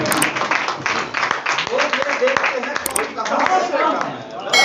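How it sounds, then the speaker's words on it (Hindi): An audience at a mushaira poetry gathering at a school in Bhalwal claps and applauds to welcome the chair, with sharp individual claps and chatter and talk running through it. "तशरीफ लाते हैं सदर महफिल जनाब इकबाल कमर साहब, एक बार भरपूर तालियां सबके साथ"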